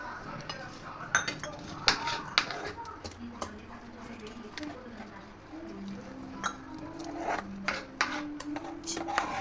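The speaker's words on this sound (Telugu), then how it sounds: "సో ఇప్పుడు ఇందులోకి మనం కొన్ని పాలు పోస్తూ కలుపుకోవాలి." Spoon clinking and scraping in a bowl as milk is poured into a kunafa chocolate mixture, irregular metallic taps and knocks up close, with faint voice-like murmurs in the background.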